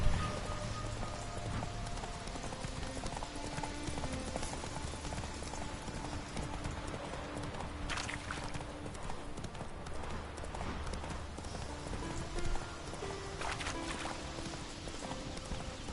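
Roach the horse galloping in The Witcher 3, a steady run of clip-clop hoofbeats beneath a constant bed of game ambience, with a faint whinny-like tone at times.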